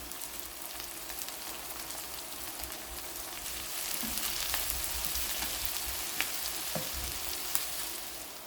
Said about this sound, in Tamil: இப்போ பாருங்க, வெங்காயம் நல்லா கோல்டன் ப்ரௌனாக ஃப்ரை ஆகிட்டு